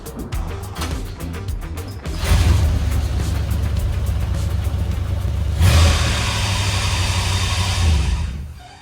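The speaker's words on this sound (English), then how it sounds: "Let's see if the Caddy wants to start" Cadillac engine cranking with rapid starter clicks, then catching and running loud and rough, with a revving surge midway before settling into a steady roar close by.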